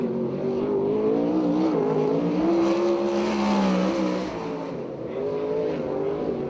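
A USAC sprint car laps the dirt oval at Perris, California, its engine a loud, continuous snarling roar that rises and falls in pitch through the corners, with a brief dip before it climbs again.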